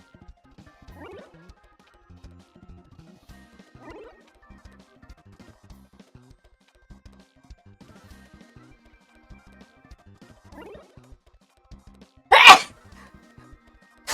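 A single sharp sneeze bursts out near the end, loud and close, after a stretch of faint scattered clicks and quiet movement.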